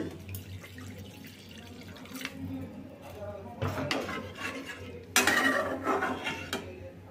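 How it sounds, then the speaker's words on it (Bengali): Water is poured into a pan of chhana curry (paneer kofta curry), with a bright splashing burst near the end over low kitchen hum, a few utensil clinks and drips. "তো এখন আমি এর মধ্যে দিয়ে দেব কিছুটা জল।"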